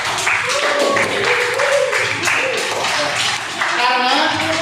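Classmates in a school classroom clap for a fellow student, a dense steady patter of small hands with children's voices calling out over it throughout.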